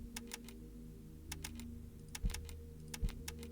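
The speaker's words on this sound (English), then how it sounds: "We're playing with a keyboard." Computer keyboard keys click during a Homebody game session: quiet, close bursts of quick taps in small clusters with short pauses between, plus a couple of heavier thumps.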